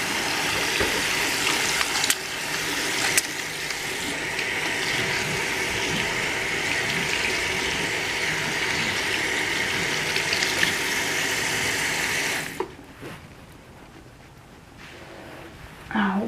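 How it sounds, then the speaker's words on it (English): Hands are washed under a running tap, a steady loud rush of water with faint splashing changes that stops abruptly near the end, leaving a quieter room. "I'm gonna wash my hands again"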